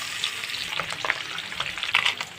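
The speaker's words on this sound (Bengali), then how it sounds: "এখন আমি সবগুলো পাবদা মাছ দিয়ে দেবো।" Pabda fish sizzle and crackle as they fry in hot oil, with steady frying hiss and small bright pops close by, no voices.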